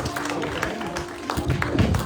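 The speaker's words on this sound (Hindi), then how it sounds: "तालियां बजती रहे भाई" An audience at an annual function claps steadily and densely throughout, a continuous wash of applause mixed with crowd noise and voices talking over it.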